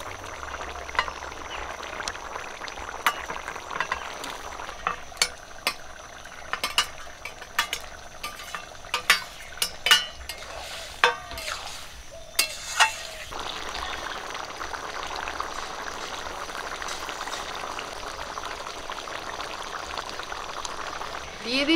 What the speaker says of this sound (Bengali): ঝোলটা ফুটে গেছে, এখন ভেজে রাখা ডিম দিয়ে দিচ্ছি।